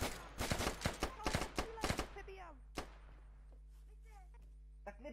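Gunfire on a Vietnam patrol in the game Unturned, a rapid run of loud, sharp shots over the first two seconds, then a single shot and a few faint distant cracks, with voices talking between them.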